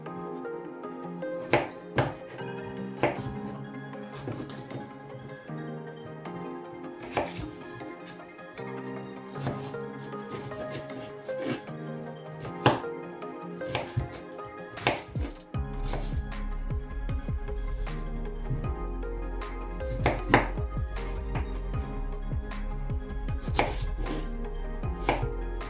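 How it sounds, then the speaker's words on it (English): A knife chops food into smaller pieces on a cutting board in a home kitchen, with steady rhythmic cuts throughout, close and clear, over a low background hum. "So then I go ahead and cut them into smaller sizes."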